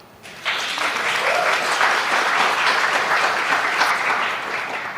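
Audience applause at a global digital health forum on maternal health breaks out after a short quiet start and fills the room as a steady, dense clatter of clapping that holds at full strength before easing slightly at the end.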